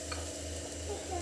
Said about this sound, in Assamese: ইয়াতে আদা নহৰু একেলগে ভাজি ল'ব পাৰে